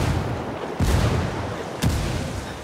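Frag grenade blasts in Ghost Recon Wildlands, two sharp booms about a second apart over a dense roar of gunfire and battle noise.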